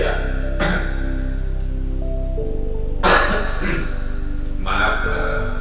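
Three sharp coughs burst out during a man's speech, the loudest in the middle, each short and close to the mic.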